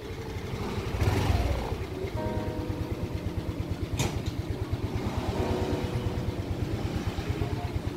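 A Yamaha Aerox 155 scooter with a leaking engine idles steadily nearby, its rapid even putter running throughout with a brief louder surge near the start and no talk.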